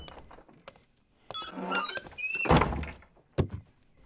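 A heavy wooden door swings open in a period martial-arts drama, with a couple of dull thunks and a creaking scrape in the middle, close and fairly loud, with no talking over it.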